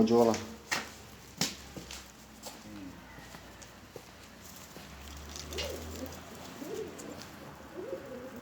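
Pigeons coo softly nearby, a few low repeated calls scattered among quiet rustles and clicks, with a person speaking at the start.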